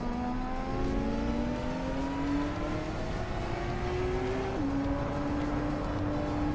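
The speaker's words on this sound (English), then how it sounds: "Lyricel is driving a 2010 Burtone Mantide, a rare and sleek supercar" A 2010 Burtone Mantide supercar in a racing video game drones under steady acceleration, its engine pitch climbing smoothly before a gear change drops it and it rises again, continuous and mid-distance.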